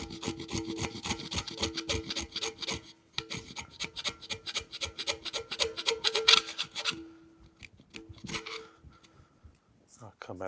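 Steel hand scraper turned up on edge, cutting oil grooves into a horizontal boring mill table, gives repeated rasping strokes in quick rhythmic bursts, close and fairly loud, pausing briefly midway and thinning toward the end.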